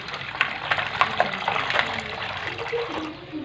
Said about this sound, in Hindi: और मैं शामिल करूँगा पानी को भी।